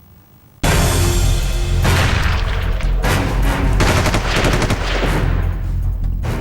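Loud, rapid bursts of gunfire crackle continuously, mixed with heavy booms, starting abruptly after a moment of quiet.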